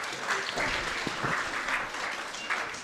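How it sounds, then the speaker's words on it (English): Audience applause at an international conference on applied mathematics: a sustained, moderately distant patter of many hands clapping in an indoor hall, fairly even in rhythm, with no talk over it. "So let us give a big applaud."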